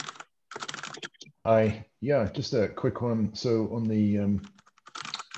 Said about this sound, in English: there's someone that's typing and the sounds are getting through